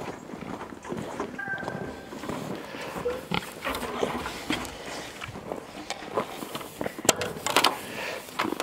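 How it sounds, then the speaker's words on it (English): Pigs grunting and shuffling on a farm while waiting to be fed, a busy mix of low grunts, snorts and hoof steps at close range. "The pigs are waiting for us."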